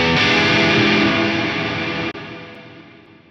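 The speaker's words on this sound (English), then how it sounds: "And I'm going to change to the other preset and you'll be able to hear reverb trails now." Axe-Fx III guitar tone with distortion and heavy reverb, a loud sustained wash that carries on after a brief dropout from the preset change and decays slowly as a spilling reverb trail.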